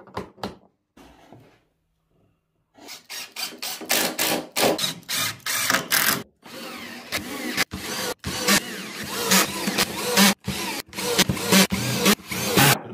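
Screws are driven through pocket holes into the side of an epoxy resin river table mould, a series of sharp, rapid driver bursts and clatter that start after a quiet opening and carry on close and loud with no talk.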